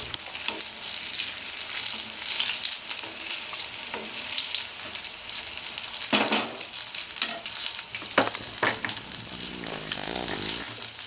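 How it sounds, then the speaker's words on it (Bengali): Steady oil sizzle of beans pakoras deep-frying, with scraping stirs and a few sharp clinks of a utensil against the pan, continuous throughout. "এগুলো আমি একটু নেড়ে দেবো"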